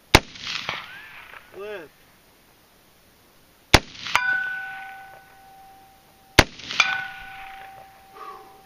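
Three loud AR15 rifle shots crack out a few seconds apart, each followed by a ringing metallic clang from a thin pole target downrange, with a brief spoken word between shots.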